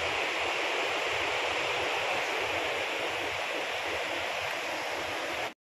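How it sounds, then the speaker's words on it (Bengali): Waterfall water rushes down a stream near a living root bridge, a steady, loud, hissing roar that fills the whole span and cuts off abruptly at the end. "পাশে এই যে ঝর্ণার জলের আওয়াজ পাচ্ছ নিশ্চয়ই তোমরা"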